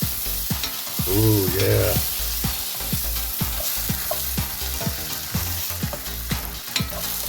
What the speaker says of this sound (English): We're going to move our bologna around with our onions.